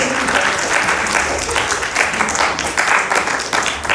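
Loud applause from a theatre audience at a Hindi stage play performance, a dense burst of many hands clapping close by, with slight surges in intensity throughout.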